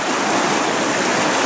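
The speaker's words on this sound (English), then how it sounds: "As the water goes around these boulders" Steady rushing water pours around large boulders in the ravine of a salmon fish passage during its first flows, a continuous broadband wash with no breaks and no voices.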